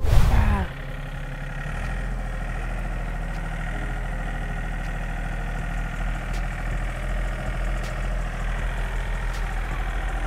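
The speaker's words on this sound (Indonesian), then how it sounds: "Lihat Dan Ramil naik traktor, biasanya naik tank." A tractor's heavy diesel engine idles in a rice field with a steady low rumble and rattling knock, close by and continuous, after a brief louder burst at the start.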